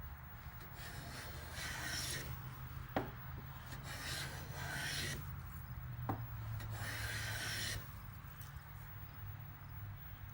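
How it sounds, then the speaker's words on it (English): A hand plane shaves a red oak strip in long rasping strokes, three or four sustained passes with brief knocks between, close and fairly quiet without talk. "I'm just planing it down smooth"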